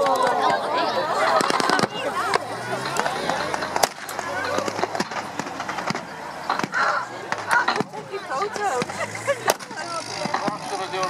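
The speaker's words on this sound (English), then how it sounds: "the Germans are attacking forward now, despite the accurate Allied artillery fire" Battle reenactment at a wartime experience weekend, with dense crackling gunfire, sharp bangs and booming artillery explosions going on continuously. Someone commentates over the noise.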